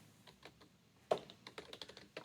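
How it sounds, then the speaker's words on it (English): Someone types code on a computer keyboard, a quiet run of crisp individual key clicks, one sharper strike and then a quick uneven patter of taps close by, with no voices. "I come down here and I type in random"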